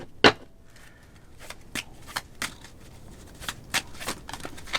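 Deck of tarot cards being shuffled close up, a series of sharp riffling flicks and slaps at irregular intervals, crisp against a quiet room.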